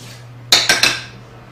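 Turkey chili being stirred in a pot: three quick metallic scrapes and clinks of a utensil against the pot, close and distinct, over a steady low hum with no talking.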